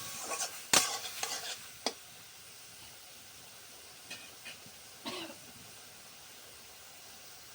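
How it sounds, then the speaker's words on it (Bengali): Onion and tomato frying lightly in a pan for butter chicken, heard as a faint steady sizzle with a few sharp spatula scrapes and stirring clinks scattered through, no voices. "পেঁয়াজ আর টমেটো আমি হালকা করে ভেজে নেব।"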